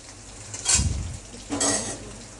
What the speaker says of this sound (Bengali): আলুগুলো সব দিয়ে দিয়েছি, এবার তেলের সাথে ভালো করে মিক্স করে নেব।